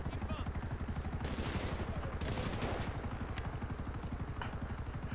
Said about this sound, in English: And why are they shooting at you?